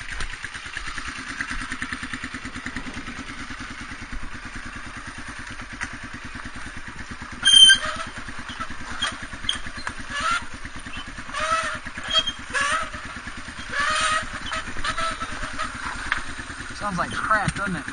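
Honda XR250R dirt bike engine on a Black Hills trail, a steady low putter with rhythmic clatter and occasional revving bursts, close by, while a rider talks over it.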